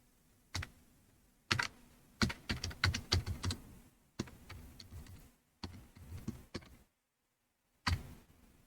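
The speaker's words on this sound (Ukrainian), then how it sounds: "Додаємо коментар і пишемо" Someone types a comment on a computer keyboard in short bursts of quick clicking keystrokes, separated by brief pauses and one near-silent gap, close and fairly quiet.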